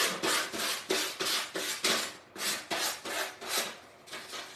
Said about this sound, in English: You could, of course, cut this off, but it's just easier to sand it, honestly.